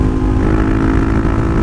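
A Suzuki DRZ400 motorcycle engine runs at highway speed around 65 mph, a loud, strained, steady drone with constant wind rush, recorded close from the moving bike.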